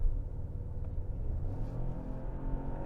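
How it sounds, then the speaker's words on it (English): A 2021 Genesis G80 luxury sedan engine rumbles low and steady close by after starting, a continuous throaty idle with slight swells in loudness and no voices. "in a luxury car, yeah, it kind of becomes a little noisy when you start"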